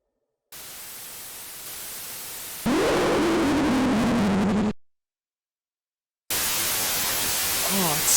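Loud static bursts from a horror video game about mascots, a broadband hiss that cuts to silence midway and then returns, with a wavering tone riding over the noise.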